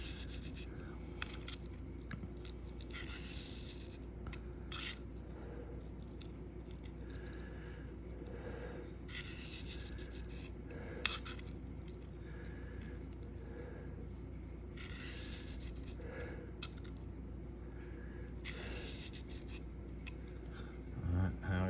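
An S110V steel knife is drawn across a Sharpal field sharpener in repeated light scraping strokes, faint and close, with quiet pauses between passes.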